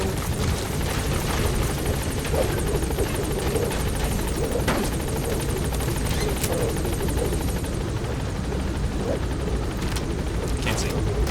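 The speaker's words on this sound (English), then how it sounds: "Helicopter has arrived." A helicopter in the video game Metal Gear Solid V: The Phantom Pain beats loudly and continuously up close, its dense rotor thump filling the scene with a few sharp knocks and a voice speaking over it.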